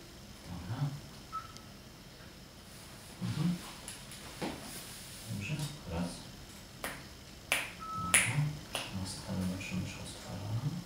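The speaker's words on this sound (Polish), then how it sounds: "Tylko pstryka." A single sharp finger snap marks the start of a recording during a backstage interview, standing out as a short crisp click among quiet room noise and scattered soft voices.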